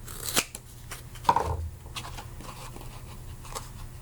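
A robot upper arm part is trimmed down by hand, producing a few sharp snipping, crunchy cuts separated by pauses, close and fairly quiet.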